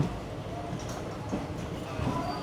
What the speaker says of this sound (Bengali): আমাদের ট্রেন এখন প্রবেশ করলো এই কাঠপাটি জাংশনে।